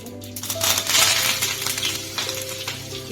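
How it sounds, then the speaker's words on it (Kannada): Mustard seeds spluttering in hot oil for a vegetable saagu, a steady crackling and popping patter that runs throughout at close range with no voices over it. "ಸಾಸಿವೆ ಸಿಟ್ಲಿಸ್ತಾ ಇದೆ"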